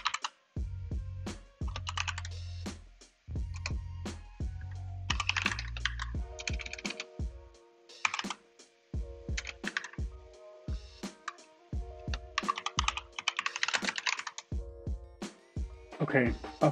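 Rapid typing on a computer keyboard during a ROS software install on a Mac, irregular clusters of close, crisp key clicks with short pauses, and a voice speaking over parts of it.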